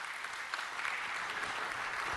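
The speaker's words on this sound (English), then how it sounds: "that deserves a round of applause" Applause at a city council meeting for a long-serving district member, a brief burst of even clapping from the chamber audience, fairly distant and soft.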